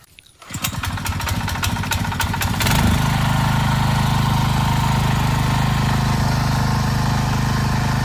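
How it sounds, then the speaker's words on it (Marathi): A tractor engine on a rice farm in Konkan starts up and settles into a loud, steady mid-pitched idle, close by, with its rattling firing pulses rising briefly before holding an even drone. "बाबांनी ट्रॅक्टर चालू केलंय ना, तर ट्रॅक्टर लावतो तो"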